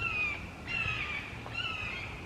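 A hawk gives three drawn-out, descending screeching calls at a moderate distance over faint outdoor background noise.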